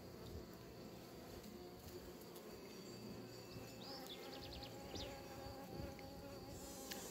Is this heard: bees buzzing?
yes